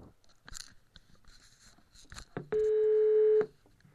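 Telephone keypad tones and a steady dial tone during a call to the Riyadh police, with a few short beeps followed by a loud sustained tone about a second long, heard close with brief rustles before it.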